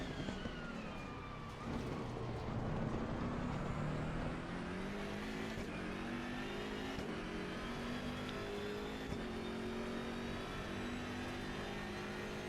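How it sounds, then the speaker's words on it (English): A BMW M6 race car engine, likely in a racing video game at the Suzuka circuit, gives a loud sustained roar that rises and falls as it revs and shifts, steady throughout with no talking. "That engine is so loud."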